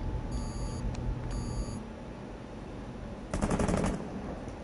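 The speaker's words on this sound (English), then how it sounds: "Yeah, he's still outside shooting, it sounds like." Gunfire in the tactical shooter game Rainbow Six Siege: a sharp, dense burst of automatic fire rattles out, with faint electronic beeps earlier and no voices.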